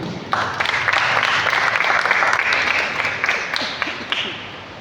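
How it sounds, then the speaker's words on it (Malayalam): A catechism class crowd bursts into steady applause for its teachers that holds for several seconds before gradually tapering off. "നമ്മൾക്ക് അധ്യാപകർക്ക് ഒരു നല്ല കയ്യടി കൊടുക്കാം."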